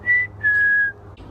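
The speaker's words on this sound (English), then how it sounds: "there's a little birdie making all kinds of noise" Two clear, steady whistled notes, one short and one longer, ring out nearby with a quiet pause between them, like a small bird calling.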